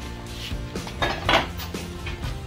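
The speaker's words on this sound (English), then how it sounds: "Here is a quarter of bunch of silverware." Metal silverware clinks and rattles in a Jamaican thrift shop, with a few sharp jangling bursts over steady background bustle, close and moderately loud.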